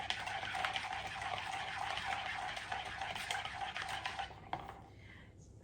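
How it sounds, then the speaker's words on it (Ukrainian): A spoon scrapes and swishes around a bowl, stirring salt and sugar in a steady, continuous motion, close up, with a faint clink near the end. "Це все ми перемішуємо сіль та цукор."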